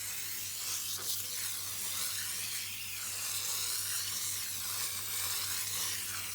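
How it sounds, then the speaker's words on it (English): Foaming coil cleaner sprays onto the aluminum fins of a home air conditioner coil, a steady soft hiss and fizz lasting throughout, fairly quiet with a low hum underneath and no voices. "The spray hits the coil and it foams up."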